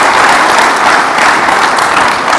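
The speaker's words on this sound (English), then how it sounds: "I think he deserves a round of applause, a big round of applause." Dense, steady audience applause fills a conference hall at an Indian Air Force event honoring General Anil Chauhan, loud and continuous without letup.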